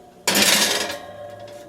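A glass baking dish holding butter slides into a 450-degree oven with a single short clunk and scrape, then a fading rattle as it settles.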